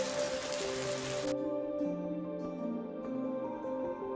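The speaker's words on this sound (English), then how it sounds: "a gentle rain began to fall, draping the plains in a misty veil" Gentle rain falls on the misty cloud-forest grassland of Horton Plains, Sri Lanka, a soft continuous patter of drops. A brighter hiss cuts off early, leaving a quieter steady shower.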